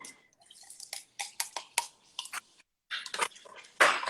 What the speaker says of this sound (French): Donc ici, je vais mettre une moitié d'eau.